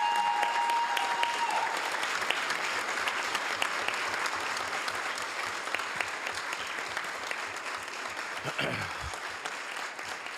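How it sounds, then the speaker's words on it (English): An audience at a city council meeting gives a retiring fire chief and his family a sustained round of applause, a dense, steady wash of clapping from many people throughout, with a voice briefly audible at the start. "let's give Chief Garrett Contreras and his family a big round of applause"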